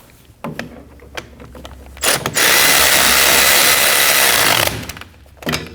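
A socket ratchet or power tool snugging a bolt on the rear wheel hub of a 2011-2016 Kia Optima, giving a few clicks, then a loud sustained whir of about two seconds, followed by more clicks, close and alone.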